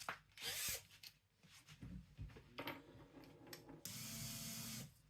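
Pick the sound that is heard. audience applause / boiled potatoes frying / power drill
power drill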